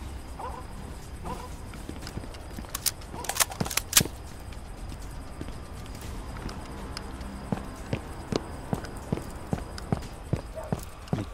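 Footsteps in the first-person shooter Firewall Zero Hour tap out in an irregular series of sharp, fairly close steps with sparse clattering sounds around them.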